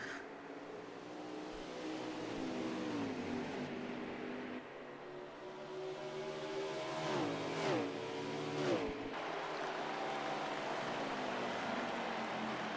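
A Ford race truck engine racing at Phoenix, a loud sustained roar that rises and falls in pitch as it is revved through gears, with other trucks sweeping past in a couple of quick surges.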